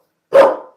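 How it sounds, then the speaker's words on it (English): A single sharp bark from a dog indoors, close and loud, cutting in abruptly from silence and fading quickly within half a second. "She's going to start barking at me again."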